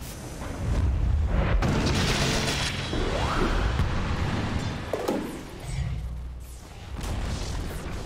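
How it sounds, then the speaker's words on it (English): A tower collapses in the Dota 2 video game with heavy, rumbling booms and crashing debris, loud and sustained across several seconds, with a brief lull before another swell of explosive noise. "Dire's top tower has fallen"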